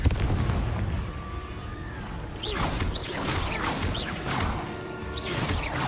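A Confringo fire spell from the Hogwarts Legacy video game bursts in loud booming blasts, several explosive impacts over a rumbling battle background, with no voice over them.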